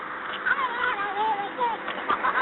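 A man imitates Donald Duck's quacking in a raspy, nasal, pitch-wavering voice, a few short squawky bursts in a row, fairly close and alone.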